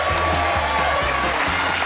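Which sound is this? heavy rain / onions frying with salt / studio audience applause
studio audience applause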